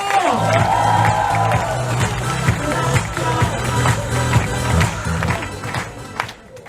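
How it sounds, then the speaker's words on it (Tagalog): A seminar audience bursts into applause and cheering as a speaker is welcomed, with a dense wash of clapping, shouts and whoops that stays loud throughout before easing at the end. "Ay naman palakpak nyo!"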